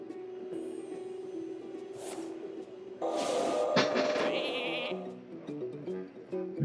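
Sheep bleats from a polymorph effect in Hearthstone, a card game: a short electronic tone, then a loud wavering bleat with a whoosh and chime effects, alone and close.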